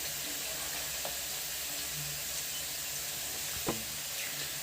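Soft, steady sizzle of shredded cabbage roasting in hot oil, with faint stirring scrapes now and then.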